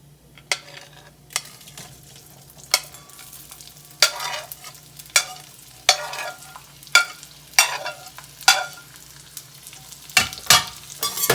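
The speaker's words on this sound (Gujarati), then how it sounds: "હવે આપણે જે કાજુ અને કારેલા જે ફ્રાય કરીને રાખ્યા હતા એને વઘારીશું" Fried cashews and bitter gourd tossed into hot tempering in a pan, giving a series of sharp stirring scrapes and clatters over a steady low sizzle, roughly one stroke every second.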